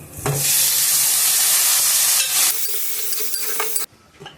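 Chicken liver frying in a hot pan: a loud, steady sizzle and hiss for about two and a half seconds, then a quieter crackle with stirring before it cuts off.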